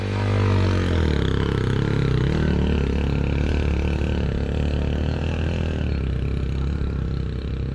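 A motorcycle engine on a steep off-road climb at Baboon Top in Pakistan drones loudly and steadily under throttle, with a constant rough roar and no pauses.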